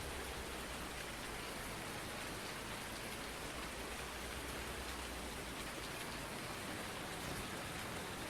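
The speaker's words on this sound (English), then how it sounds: "Of course it's going to happen on a rainy day." Steady, dense rainfall fills the whole stretch at an even level with no break, heard in the farming game Farm Simulator 19.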